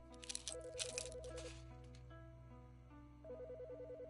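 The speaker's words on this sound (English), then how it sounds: "The fucking phone." A telephone rings in repeated warbling electronic bursts, two clear ring cycles separated by a pause, fairly quiet against a low background hum and a few clicks.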